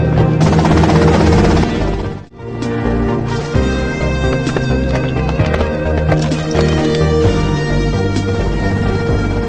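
Helicopter in the video game GTA Vice City, a loud mechanical rotor drone with a rapid chopping pulse, briefly dipping near the two-second mark and then continuing steadily under layered game sounds.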